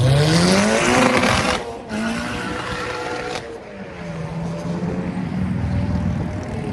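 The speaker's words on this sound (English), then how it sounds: "That's why his car sound like that." A loud modified car engine revs hard and repeatedly, with rising and falling whines and brief drops between pulls, close and dominant over the background.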